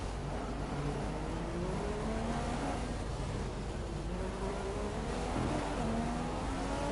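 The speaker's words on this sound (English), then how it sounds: "The car behind is running on full revs." A race car engine in the F1 2015 video game drones at high revs, its pitch rising and falling through gear changes in a loud, continuous in-car sound with no talk.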